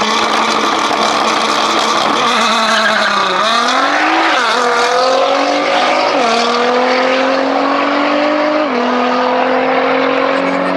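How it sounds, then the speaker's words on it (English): A turbocharged Renault Clio race car roars loudly and continuously under boost, its engine note climbing steadily through several sharp upshifts, close and alone. "You can tell when the boost fully kicks in, the Clio starts skidding."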